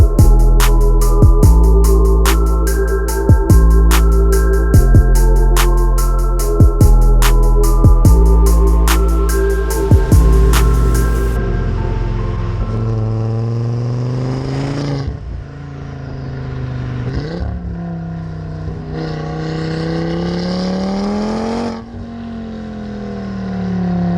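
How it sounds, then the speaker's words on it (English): A 500 BHP hybrid-turbo Audi RS3 8P drives away, its engine droning loudly and steadily, then rising and falling through several gear changes as it accelerates. "So, initial driving of the hybrid turboed 8P RS3."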